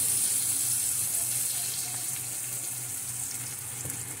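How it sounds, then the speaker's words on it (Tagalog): Milk pours into a cooking pan for a carbonara white sauce, a steady soft liquid stream running continuously at moderate level with no talking. "Lagay natin ng milk"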